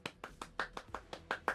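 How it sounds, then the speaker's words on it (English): A rapid series of about nine hand claps in a quick, fairly even rhythm, fairly quiet and close, with no talking over them. "It is a clap."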